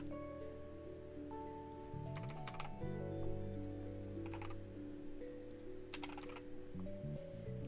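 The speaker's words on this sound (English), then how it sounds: "Don't listen to my keyboard ticky-tackies." Fingers tap on a computer keyboard in quick, irregular bursts of soft clicks, close and fairly quiet, over faint background tones from a computer.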